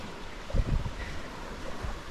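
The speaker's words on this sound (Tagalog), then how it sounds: "yung hampas ng alon" Waves washing onto a beach shore, a soft low surge swelling twice under steady wind noise on the microphone, fairly faint and with no one speaking.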